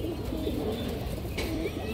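Indian Kaldam high-flyer pigeon cooing close by, soft repeated low coos over a steady background hum.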